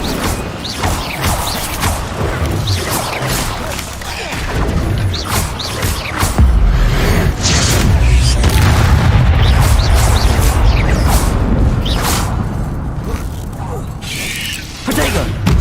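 Incendio fire spell bursts in the video game Hogwarts Legacy, a run of loud crackling, booming blasts and whooshes repeating over about fifteen seconds, with someone shouting now and then.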